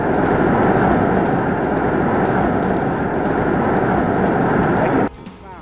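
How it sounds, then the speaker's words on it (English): Deafening jet-engine-like roar rising from within the crater of an active Kamchatka volcano venting dark smoke, a loud, continuous broadband rumble that holds steady, then drops off sharply near the end. "the jet engine-like roar from within the crater is almost deafening"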